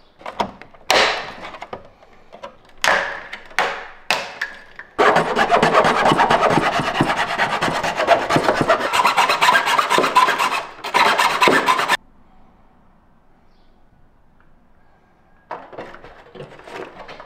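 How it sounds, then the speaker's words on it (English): A hand file rasps at melted plastic inside the radio opening of an old Ford Super Duty truck dash, in bursts of short strokes, then a long run of steady back-and-forth scraping, a quiet pause and a few final strokes. "finish cleaning up with this file"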